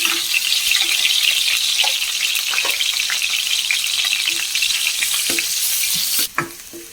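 Crushed ingredients, frozen into a lump, fry in a pan for kadala masala with a steady close sizzle throughout, a few stirring scrapes breaking through, and the hiss briefly dipping near the end.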